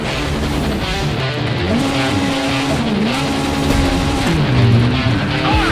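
A rally car in a World Rally Championship game drifts hard, with its engine revving and wavering loudly and steadily while the tyres squeal through the slides, close and unbroken, with no voices.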